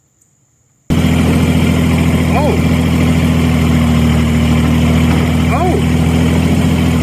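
Tractor cranking over a flooded Ford 302 V8 via a fork on the flywheel, starting abruptly after a brief quiet and running as a loud, steady mechanical drone, with short exclamations from a man over it.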